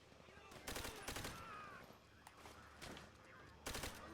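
Gunfire in the video game Call of Duty: World at War, faint repeated shots and bursts at an irregular rhythm over a steady background of game noise.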